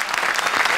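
Loud, dense applause from a studio audience at a comedy show's poetry special, cheering on the judges; a continuous burst of clapping with no voices over it.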